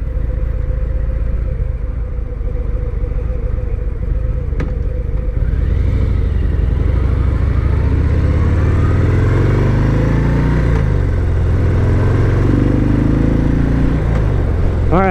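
A 2019 Harley-Davidson FXDR 114 with its Milwaukee-Eight 114 cubic inch (1868 cc) engine rumbles under way, heavy wind noise over a low engine note that climbs as the bike accelerates through gears, steady and close.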